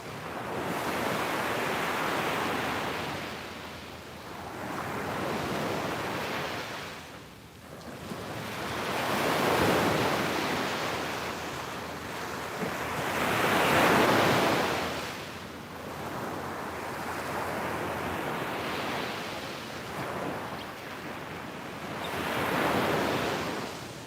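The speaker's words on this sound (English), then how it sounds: "I feel guilty talking over the waves." Ocean waves roll in and break on the shore at sunset in slow, repeating surges of broad hissing roar, each wash swelling and fading, with some wind.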